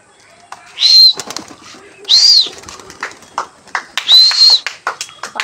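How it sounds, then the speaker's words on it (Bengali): Pigeons burst from a loft on release, giving three loud bursts of wing flapping, each roughly half a second long, spread over a few seconds, with softer rustles and clicks between them. "তো পায়রা দুটো ছেড়ে দিয়েছি"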